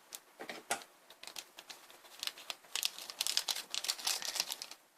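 Scissors cut open an instant noodle seasoning packet up close, producing a quick run of crisp snips and crinkling plastic rustles that grow busier toward the end, with no talking.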